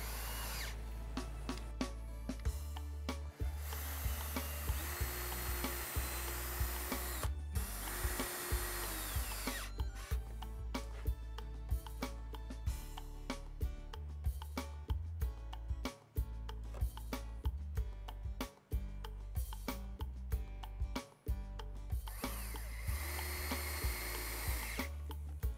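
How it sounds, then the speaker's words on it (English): Power drill boring pilot holes and driving screws into Southern pine shelves of a plant stand, loud repeated whirring bursts with pitch changes and brief pauses between runs. "use clamps in the meantime to hold the shelves in place while you drill pilot holes and install the screws."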